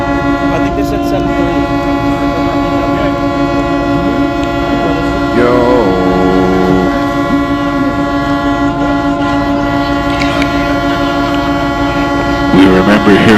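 Truck air horns blare from a freedom convoy in California, long steady honks ringing out over constant road rumble, with a few shorter blasts later and a brief voice.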